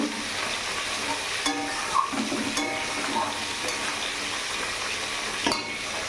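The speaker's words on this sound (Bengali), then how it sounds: "এর ভিতরে আমি একটু হলুদ দিয়ে দিচ্ছি একটু লবণ দিয়ে দিলাম মশলাটাকে ভালো করে কষিয়ে নেব" Spice masala with turmeric and salt sautéing in a pan for a cabbage dish cooked with fish head, a steady close sizzle with scattered spoon scrapes and light clinks against the pan.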